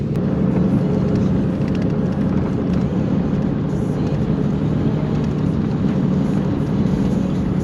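A vehicle towing a caravan rolls over a bumpy, sandy outback track in central Australia at about 28 km/h, making a loud, continuous low rumble with no voices.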